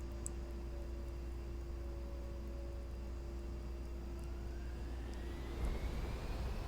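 An A-10C aircraft lands in the DCS flight sim video game, its engines a steady jet whine and rumble with a slowly rising tone, heard alone without speech.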